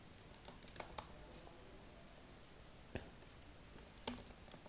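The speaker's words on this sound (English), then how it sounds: "I'm going to type in the URL web design and development" Someone types a web address on a computer keyboard, producing faint, sparse key clicks in short clusters against a quiet room background.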